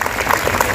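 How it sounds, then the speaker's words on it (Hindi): Brief burst of clapping from an audience at a welcome and felicitation ceremony held by Poinsure Gymkhana, dense and fairly loud. "सभी की तरफ से जोरदार तालियां हमारे आन बान और शान शेट्टी सर के लिए"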